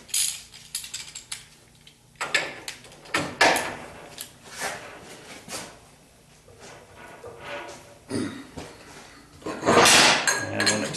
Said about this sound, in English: So we're going to have to do this the old-fashioned way and use a regular ratchet